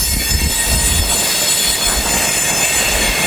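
Freight train with a Union Pacific boxcar rolling past close by, a loud continuous rumble of wheels with high, sustained squealing over the rails.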